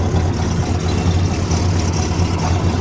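Idling V8-style rumble from a Chevrolet Monte Carlo fitted with one Flowmaster exhaust, deep and even with a faint loping pulse, close and loud, unbroken by voices.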